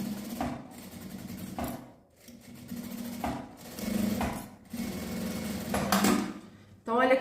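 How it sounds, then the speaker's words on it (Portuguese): Sewing machine stitching close along the edge of a fabric pocket in a beginner sewing project, running in several short bursts with brief pauses, moderately loud and close. "Uma costurinha bem na beiradinha aqui pra segurar esse bolso."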